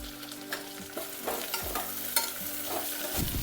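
Curry leaves crackle and sizzle in hot oil in a pan, with a few stirring scrapes over a steady frying hiss, close and without voices.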